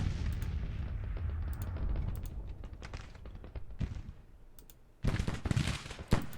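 Distant cannon fire from 14-pounder James rifled guns in Grand Tactician: The Civil War, a few sharp reports scattered over a low rumbling battle bed, with a louder burst of blasts near the end.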